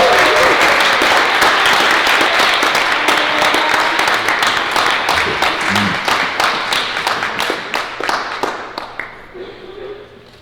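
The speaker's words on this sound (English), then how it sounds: "please join me in giving a big round of applause to a talented musician" A school awards-night audience applauds a young musician with dense, steady clapping that holds loud, then thins into scattered claps and fades toward the end.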